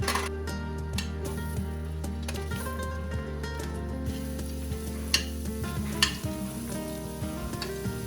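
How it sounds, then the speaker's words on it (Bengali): Smoked paneer and vegetables sizzle steadily in a hot pan while being stirred, with occasional clinks of the spoon against the pan throughout. "এবার আমি এটাকে নাড়বো"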